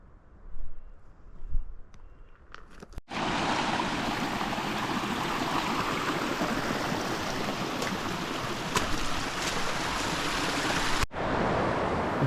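River flowing along the Western States 100 trail course between Olympic Valley and Robinson Flat, a steady broadband rush of water that rises abruptly and holds loud and close for several seconds, with quieter ambience before it.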